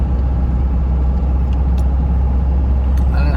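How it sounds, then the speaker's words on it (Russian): Strong gusting wind buffets a car while it drives, heard inside as a loud, constant low rumble of road and engine noise. "Ух ты, блин, ветрыще аж ковыляет машину."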